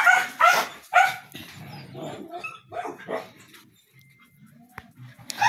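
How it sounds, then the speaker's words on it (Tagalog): Several dogs bark sharply in quick bursts near the listener after spotting a monkey, followed by quieter whimpering yips and a last louder bark. "Ang ingay ng mga aso ko"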